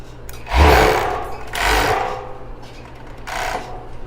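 Overlock sewing machine stitching the upper edge of a bra with elastic lace, three short whirring bursts of stitching separated by brief pauses, close and clear.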